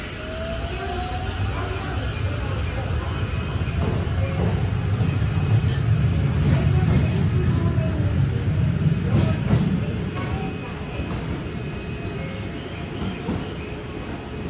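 Hokuso limited express train pulling away, a steady rumble and rolling rail noise that swells toward the middle and then eases, heard from on board throughout.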